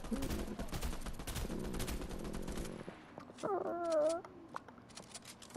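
Rapid gunfire from the Fortnite video game crackles in dense bursts through the first half, mixed with a voice talking, then thins out into a few scattered shots and a brief warbling tone.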